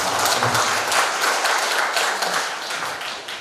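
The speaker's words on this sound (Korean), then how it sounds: "박수로 청해주시면 감사합니다" A seminar audience applauds a guest lecturer, a cultural heritage guide, with a burst of dense clapping that stays steady and loud for a few seconds before fading slightly.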